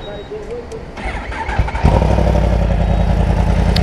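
A 2024 Yamaha R1 sport motorcycle cranks and fires up at close range, the starter whir giving way to a loud, steady idle that holds to the end.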